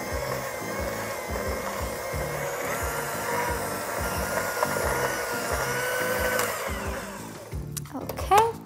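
An electric mixer whirs steadily through a vegan tiramisu frosting mixture, running close and loud with a pulsing churn for most of the clip, then slowing and stopping near the end.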